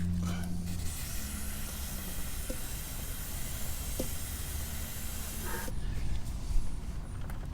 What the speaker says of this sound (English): Okay, let's go ahead and rinse it.